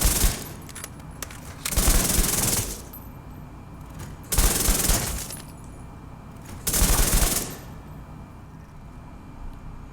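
A high-rate automatic weapon, fired for rate-of-fire testing, lets off three loud, close bursts of rapid gunfire, each lasting about a second, separated by quieter gaps.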